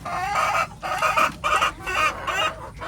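Caged laying hens on a poultry farm cluck close by in several short, rhythmic bursts separated by brief pauses.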